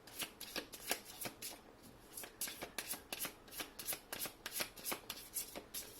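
Tarot cards being shuffled by hand, a steady run of quick papery riffles and flicks, close and soft with no talking.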